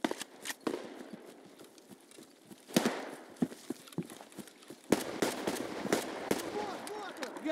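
Scattered gunshots from AI soldiers in the Escape from Tarkov video game, sharp irregular cracks and bursts at moderate distance over a busy background, with a louder cluster of shots partway through.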